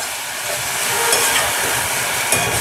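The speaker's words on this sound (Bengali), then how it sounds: "দিয়ে এটাকে আমি খুব ভালো করে কিন্তু এই ঘিয়ের সঙ্গে ভাজতে থাকবো।" Whole amla (Indian gooseberries) frying in hot ghee, a loud, dense, steady sizzle heard up close with a couple of brief sharper crackles.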